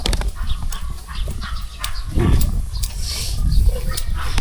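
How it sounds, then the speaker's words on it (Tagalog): A dog grumbles and growls close behind the listener, rough low rumbling bursts with a few sharper noises over windy outdoor background, no speech. "Sabi na may aso nga sa likod ko guys eh."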